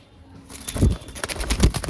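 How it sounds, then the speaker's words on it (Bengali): A pair of Kalanka pigeons, one male and one female, give a brief burst of soft, close cooing that rises after a quiet start, with a few faint rustles mixed in. "খুবই সুন্দর কোয়ালিটির পায়রা"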